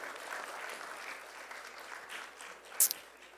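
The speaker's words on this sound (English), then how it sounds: "Give them a round of applause, ladies and gentlemen." Faint, distant applause from a conference audience, a soft wash of clapping that continues steadily and then fades.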